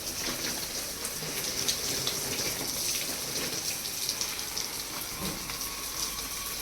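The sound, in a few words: water being poured over a plant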